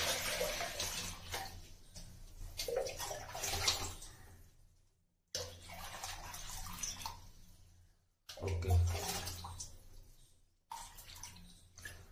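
Water from a bucket pours into an enema pot with a 1.5-litre capacity, in three or four soft splashing pours broken by short pauses, faint and close.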